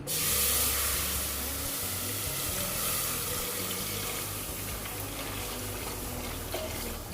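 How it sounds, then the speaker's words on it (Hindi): One litre of milk pours into a cooking pan for a shahi tukray dessert, a steady, close liquid rush with a bright watery hiss that holds evenly throughout. "सबसे पहले 1 लीटर दूध को मैं पैन में डालूंगी"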